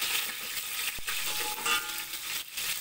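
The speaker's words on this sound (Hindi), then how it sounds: "अभी हम इसमें हरी मिर्च शामिल करेंगे और एक दो मिनट इसको फ्राई करेंगे" Green chillies hiss and crackle in hot oil with lightly browned onions in a pan, a steady close sizzle with a single sharp clink of a utensil partway through.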